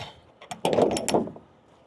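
Truck trailer doors are unlatched and swung open with a quick metallic clunk and rattle, followed by a scraping, clattering burst of latch and hinge noise, close and moderately loud.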